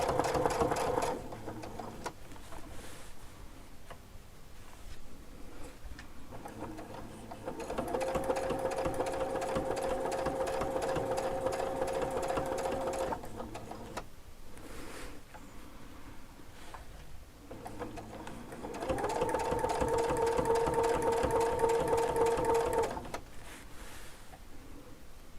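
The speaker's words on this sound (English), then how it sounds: "I'm going to finish sewing this" A sewing machine stitches a quilt block in several runs, loud steady bursts near the microphone separated by quieter pauses of handling the fabric.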